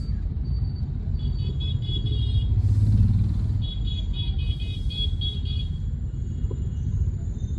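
Steady low rumble of a car moving through heavy evening city traffic, with a continuous close engine and road drone and faint distant horn-like tones, no talking.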